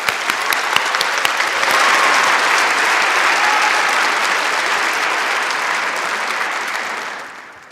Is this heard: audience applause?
yes